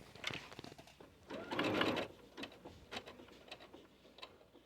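A sewing machine stitches a button on in short, quiet bursts, with a brief louder run of needle strokes and light mechanical ticks and clicks around it, heard close and alone.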